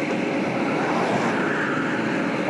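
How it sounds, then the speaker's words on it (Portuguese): Airplane flying overhead on the road near Caracaraí, Roraima: a loud, steady engine drone with broadband rumble, constant throughout with no other sounds. "Passou um avião"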